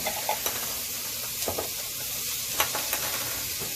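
Garlic sizzles and fries in hot oil for a stew, a steady crackling hiss with occasional stirring scrapes, close and fairly loud with no talking.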